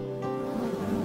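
Bees buzzing, a brief steady droning hum close by, alone without voices.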